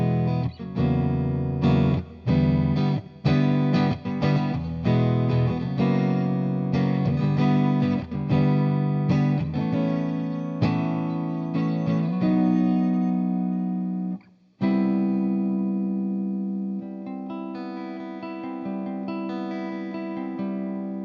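A Fender Aerodyne Telecaster electric guitar on its neck pickup plays a mellow run of strummed chords and picked notes, clear and close, with a brief pause before a final ringing chord and single notes; no voices.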